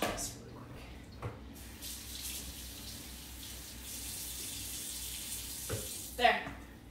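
A kitchen knife rinsed under a running tap, with a steady stream of water splashing into a sink and a few brief clinks, fairly close and moderately loud.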